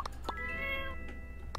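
Meows from a cat in the farming life-sim game My Time At Portia, several short cries spaced across a second and a half with a harmonic, drawn-out call in the middle, over a steady low game hum.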